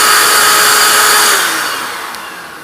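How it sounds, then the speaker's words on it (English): Shop vacuum running in reverse to blow out dust, a loud steady broadband rush that holds for over a second, then gradually softens and tapers toward the end. "That's how to make a dust machine out of your shop vacuum."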